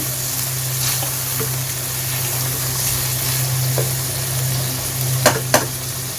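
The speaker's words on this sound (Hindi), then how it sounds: "ये देखें, और हाई फ्लेम पे भूनना है अपने।" Chunks of kaleji (liver) sizzle on a high flame, a continuous close frying hiss with a low hum beneath and two sharp clacks near the end.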